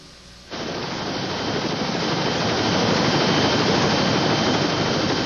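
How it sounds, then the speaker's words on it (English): A Coast Guard helicopter close by, its engine and rotor wash starting abruptly and roaring as a loud, steady, broadband rush that builds slightly and holds. "we made the decision to have the Coast Guard chopper land and fly the boy out"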